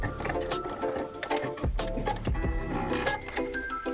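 A sewing machine stitches straight along the pocket edge of denim jeans, a close, steady rapid mechanical chatter of needle strokes with a brief slowdown midway, running continuously without talk.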